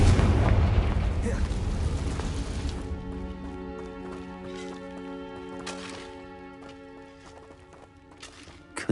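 A Confringo fire spell explodes in Hogwarts Legacy with a heavy roaring blast and rumble that dies away over a few seconds, followed by sustained tonal game music and scattered debris clatter.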